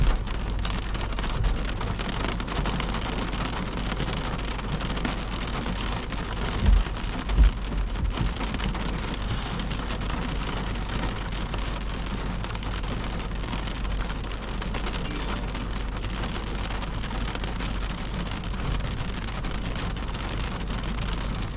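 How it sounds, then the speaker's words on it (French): Steady rain falls continuously during a thunderstorm in the Lanaudière region, a soft even hiss with occasional low rumbles, no voices. "Pourquoi? Il pleut? Déjà."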